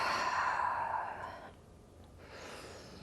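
A single soft exhale of breath during a floor back exercise, close and gentle, fading into quiet after about a second and a half.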